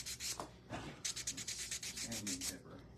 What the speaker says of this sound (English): I'm just going to go and sand the edges of this.